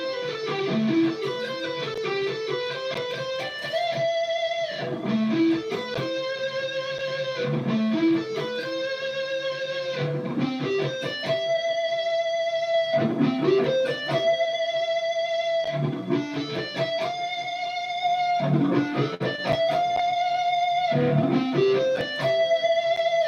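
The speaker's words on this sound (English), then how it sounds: "I want to show you another sweep picking pattern here." Clean electric guitar plays a sweep-picked arpeggio pattern with a rolled finger, a steady, repeating run of bright, quick notes cycling for over twenty seconds with no talking.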